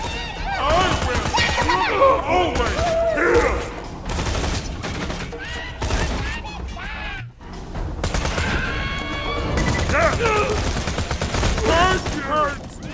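Rapid bursts of gunfire from Borderlands 2, loud and dense, with a short lull around the midpoint before the shooting resumes, mixed with game effects and a voice talking over it.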